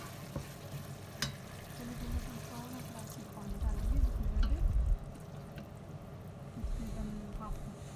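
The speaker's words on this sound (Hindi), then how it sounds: "ये देखिए, बिल्कुल इसमें आधा कप ही मैंने पानी डाला है, ज़्यादा नहीं डालेंगे।" Half a cup of water is poured into cornflour-coated chicken cooking in a pan, swelling the soft background sizzle into a louder gush for about a second, with clinks and a voice talking over it.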